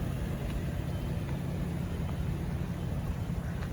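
A 2020 Chevrolet Express 2500 conversion van runs in a steady low idle rumble, close and constant with no other sounds.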